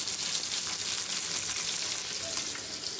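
Fish sizzles steadily as it fries in a pan, a dense, bright crackle that holds at an even level throughout with no voices over it.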